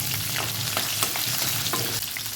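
Onions, green chillies and curry leaves fry in a hot pan with a steady, dense sizzle and a few sharp crackles and pops, close and loud, with no one talking.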